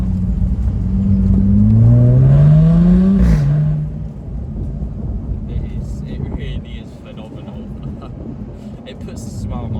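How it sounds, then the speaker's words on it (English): Jaguar F-Type 3.0 V6 R-Dynamic P380 AWD convertible, 2018, revving up through its exhaust with a rising whine, then easing off into a rumbling overrun with light irregular pops and crackles, close and loud with wind noise. "You even get lots of cracks and pops, you know, a few minimal cracks and pops after like downshift."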